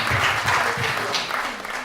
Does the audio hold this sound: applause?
yes